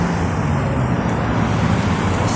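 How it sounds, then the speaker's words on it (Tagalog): Steady road traffic in Liverpool, a dense low rumble of engines and tyres from stopped and slow-moving vehicles, continuous and fairly loud with no talking. "So guys, na-stop tayo kasi traffic."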